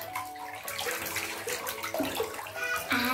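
Bath water splashing and sloshing with Gelli Baff jelly in a tub, continuous wet churning and dripping, with children's voices briefly heard.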